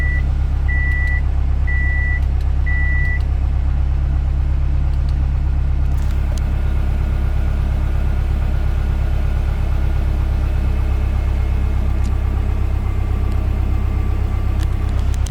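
A Subaru WRX built to 500 horsepower idles roughly after its first start-up, a loud steady low engine rumble with an uneven pulse, and a short run of electronic beeps near the start.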